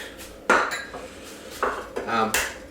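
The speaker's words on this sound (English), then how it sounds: "So, first we're going to crack" Eggs are cracked into a bowl in a home kitchen, giving several sharp shell taps and clinks against the bowl, spaced apart and fairly close, with no talking.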